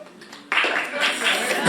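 A comedy show audience breaks into applause after a quiet start, a sudden wash of clapping that swells and carries on to the end, with talk running faintly beneath it.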